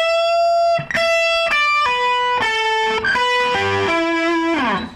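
Electric guitar plays a solo lick, a string of about eight picked notes stepping downward with bright ringing overtones, loud and close, unaccompanied and without talk.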